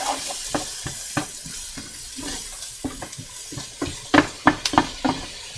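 Soft frying sizzle in a pan while cooking mushroom soup, with scattered crackles and pops that grow sharper near the end, with no talking.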